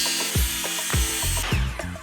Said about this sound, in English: So you need a saw that can cut straight, but I'm just going to trim off about 1/8 of an inch.